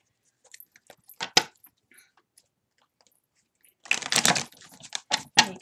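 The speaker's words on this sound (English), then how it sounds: "I'm going to have to shuffle these cards really good this time" Traditional tarot cards are shuffled on a table, giving quick papery riffles and flicks in two bursts with a quiet pause between, close and fairly soft.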